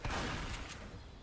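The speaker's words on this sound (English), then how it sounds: "That was a big explosion." A big explosion in the zombie shooter game Left 4 Dead 2, set at a dark carnival: a loud, booming blast with deep low rumble that fills the whole moment and decays slowly.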